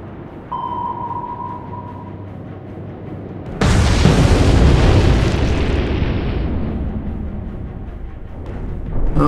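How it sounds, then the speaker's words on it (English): In the naval game Atlantic Fleet, a thin sonar ping sounds first, then a single torpedo strikes with a sudden loud explosion that roars and slowly fades out. "Single torpedo."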